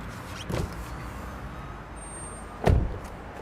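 A Honda Civic RS car door shuts with a solid, close thump; a fainter thud comes just before it, over a steady background hum.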